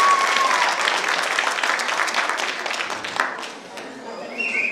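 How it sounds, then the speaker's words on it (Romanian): Audience applause at a village festival of traditions and customs in Poduri, Bacău, loud at first and gradually thinning out, with a voice speaking over the clapping. "Ia să auzi un aplauz!"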